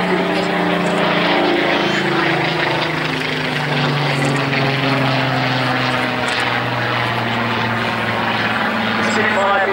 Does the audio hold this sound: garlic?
no